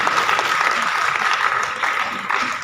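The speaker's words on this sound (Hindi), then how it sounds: "एक बार जोरदार तालियां" Audience applause, a dense, steady patter of many hands clapping, moderately loud and continuous throughout.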